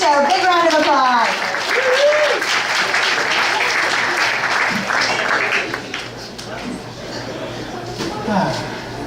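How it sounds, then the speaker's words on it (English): An audience gives a sustained round of applause for a guest called to the stage at a storytelling event. The clapping is loud and continuous, with a host talking over the opening seconds. "Alicia, a big round of applause."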